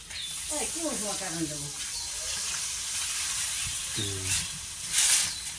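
Steam hisses steadily from beef tripe cooking in a pan after water is poured in, a soft continuous sizzle with a louder hissing burst near the end, while a voice briefly speaks over it.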